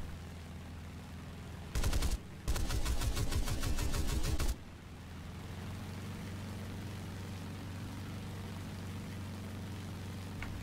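A Hawker Tempest Mk II fires its guns at a Bearcat in an aerial combat game, two loud rapid bursts, a short one then a longer rattling one, over a steady piston engine drone.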